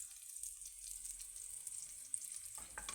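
Rice browns in a pot for Haitian-style rice, giving a faint, steady sizzle with a short stirring scrape near the end.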